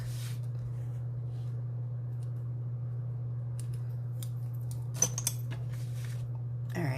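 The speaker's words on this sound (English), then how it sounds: "We're going to trim this down with my dull snips" Dull snips trim down a shoelace-style ribbon on a handmade card. A couple of short, crisp cuts come near the end over a steady, low electrical hum.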